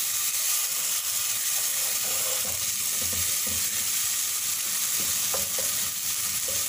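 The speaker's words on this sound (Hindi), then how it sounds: "अब इतनी देर तक पकाना है कि ये टमाटर जो हैं ये नरम पड़ जाएं" Tomatoes for gola kabab masala cook down in a hot pan with a loud, continuous hissing sizzle. Low scraping and stirring thuds come and go beneath the frying, and nobody speaks.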